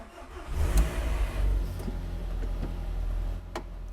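A modified Renault Clio with an Audi 1.8T engine cranks and catches, settling into a deep, rough rumbling idle with a few faint ticks over it.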